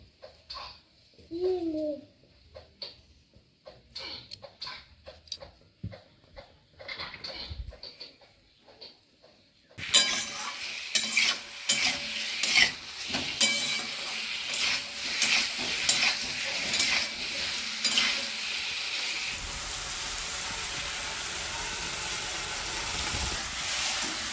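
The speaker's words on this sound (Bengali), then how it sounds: "মশলা দিয়ে আলু আর ডিম দুই কষিয়ে নিয়েছি" Potatoes and eggs with spices sizzle and hiss loudly in a hot pan while a spatula stirs and scrapes, the frying continuous and close, after a quieter start of scattered taps and brief clatter.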